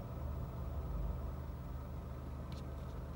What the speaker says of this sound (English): There's a little jiggle in the RPM and then it goes up a little higher and then you hear the fan running.